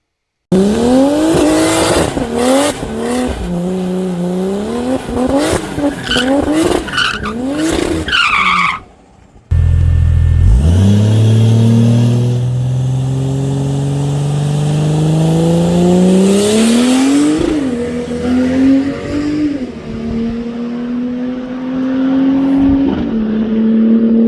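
A tuned Ford Falcon F6 with a Barra engine pulls hard on a drag track. Its engine rises loudly through rapid gear changes, cuts out briefly, then roars again in a long climbing wail with tire noise as it launches and speeds away.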